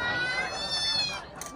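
A cat gives one drawn-out, high meow close by, fading after about a second, with faint background noise around it on a fishing trip in Palawan.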